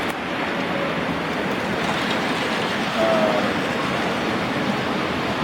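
A model train locomotive rumbles steadily along the track with a faint whine, a continuous mechanical drone at moderate distance.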